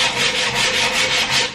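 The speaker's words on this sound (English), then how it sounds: "Let's use the sandpaper first." Rough 60-grit sandpaper rasps back and forth across the edges of a piece of wood in a steady rhythm of scratchy strokes, close and fairly loud.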